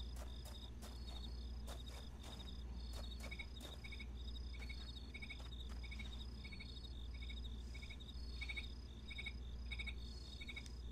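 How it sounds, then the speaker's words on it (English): Cricket chirping ambience in the video game Fragile Dreams, rhythmic insect trills repeating steadily over a low hum, faint and continuous with scattered soft ticks. "like, is that supposed to be crickets?"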